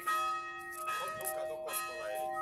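Church bells ring with sustained, overlapping tones from a nearby church, hum lingering throughout while people talk briefly over the peals.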